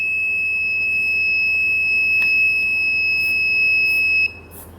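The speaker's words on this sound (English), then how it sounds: "it gives you the reading and also the alarm once it reaches to the" A combustible gas detector sounds its alarm on reaching a preset gas limit, giving a steady, piercing high tone with a few extra chirps, held loud and close for about four seconds, then cutting off.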